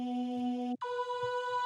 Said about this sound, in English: But the main part are these vocal samples,